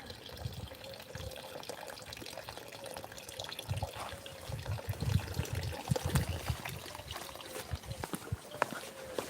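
Natural spring water flows from stone in La Floresta, Lleida, Catalonia, Spain, trickling and splashing steadily at a moderate distance with small irregular drips and patters.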